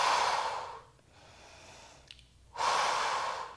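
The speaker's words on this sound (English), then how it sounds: "Breathing in through the nose and out through the mouth." Strong, steady breaths during a full-body Pilates mat workout: a long exhale, a quieter pause, then another forceful breath out, close and clear.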